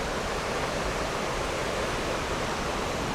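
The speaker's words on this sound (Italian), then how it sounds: "Guardate qua l'acqua, sempre al nostro fianco," Water rushes steadily beside a sunny mountain trail, a constant close broadband wash like a small stream or cascade, with no voices.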